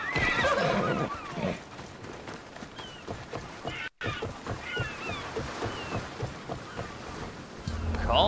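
A horse in the video game Assassin's Creed Odyssey gallops with a rapid, steady clip-clop of hooves, opening with a whinny, over a background of wind and sea wash.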